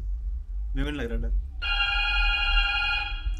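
After a brief voice, a phone ringtone starts up, a bright sustained electronic tone ringing steadily over a low background hum.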